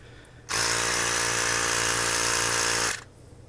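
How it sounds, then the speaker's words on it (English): A Ryobi hand pump inflating a tire runs as one steady, loud electric whir with a strong hum, starting abruptly and cutting off cleanly after about two and a half seconds, with no talk over it. "My trusty Ryobi hand pump."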